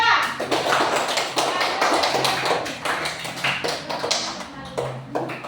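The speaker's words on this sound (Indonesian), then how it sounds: "beri aplaus untuk kelompok 2" A classroom of students applauds a presenting group in a school lesson. Dense, steady clapping from many hands runs close and loud nearly throughout, with young voices mixed in.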